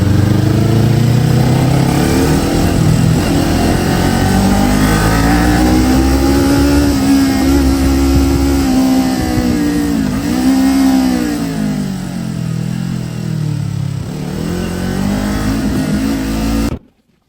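A Kawasaki Ninja 400 motorcycle is ridden through traffic, its engine droning continuously and loudly with gentle rises and dips in pitch over steady wind rush, until it cuts off at the end.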